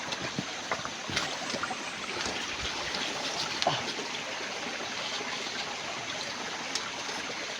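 A small creek flows steadily outdoors, a continuous close trickle and wash of water with occasional faint splashes and no talk.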